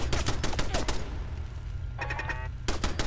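Rapid bursts of automatic turret fire in Fallout 4 rattle through the opening second, pause under a low rumble and a brief tonal whine, then return in a loud volley at the end.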